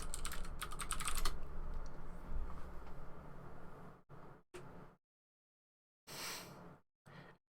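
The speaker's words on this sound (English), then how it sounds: "I'll type it." Someone types on a computer keyboard, giving a quick run of clattering keystrokes up close. The typing stops and restarts in short separate bursts, with silent gaps between them.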